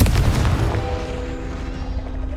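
A single loud Confringo blasting spell explosion in the video game Hogwarts Legacy, a heavy boom right at the start that rolls off into a ringing, fading tail.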